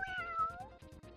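A cartoon cat in the Harvest Moon video game gives one short, soft meow with a gliding pitch, over a faint rhythmic game soundtrack.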